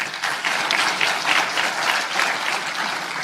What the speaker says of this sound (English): I think that really deserves a big round of applause.